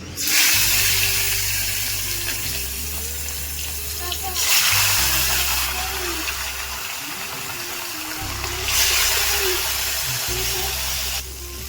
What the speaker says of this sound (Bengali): আমি মাছটাকে ভেজে নিচ্ছি